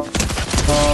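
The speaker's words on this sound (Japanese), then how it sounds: "動画班のところからちょっと銃声がしてるね" Gunfire in the video game Fortnite: a rapid burst of close, loud shots fired in quick succession, filling the whole second with dense rattling reports.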